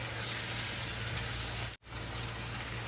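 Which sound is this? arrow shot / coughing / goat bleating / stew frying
stew frying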